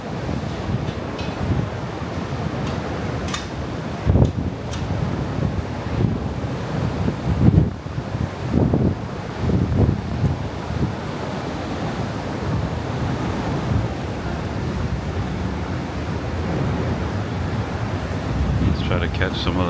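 Strong wind buffets against the microphone while heavy seas surge and crash around a cruise ship in stormy weather with lightning, a constant roar with louder gusts and slaps of water.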